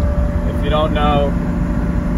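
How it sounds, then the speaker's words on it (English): The engine of an SVJ Roadster fitted with a Gentani exhaust system makes a steady, loud, low drone inside the cabin while someone talks briefly over it. "we're in the SVJ Roadster right now, guys, with the Gentani exhaust system"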